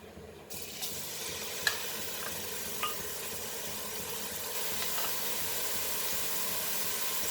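Onion fries in about three tablespoons of oil in a pan while mutton is being cooked, a soft steady sizzle with a few faint clicks, quiet and close, with no voices.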